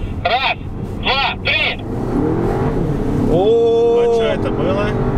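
A VW Touareg 4.2 TDI rated at 390 hp accelerates hard in a drag race, its engine a loud, steady roar with rising gear tones, while people talk over it.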